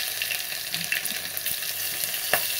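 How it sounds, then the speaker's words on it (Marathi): Mustard seeds and cumin crackle and sizzle in hot oil, a steady frying hiss dotted with small pops, close and fairly quiet, no voices. "चांगली मोहरी तडतडली की जिरे टाकून घेऊया. जिरे तडतडले की लसूण टाकूया लगेच."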